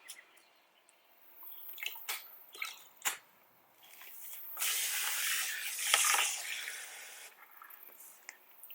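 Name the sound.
spraying Diablo gel wheel cleaner on car wheel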